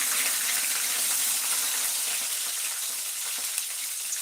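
Curry leaves and onions frying in a pan, a steady hissing sizzle that stays close and even throughout with no voices.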